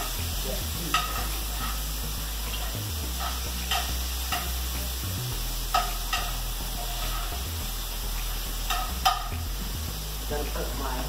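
Ground beef browning in a pan, sizzling steadily and close, with repeated scraping and stirring strokes over a low rumble.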